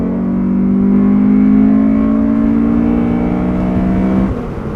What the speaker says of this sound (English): the way VTEC kicks in all at once makes it all the more dramatic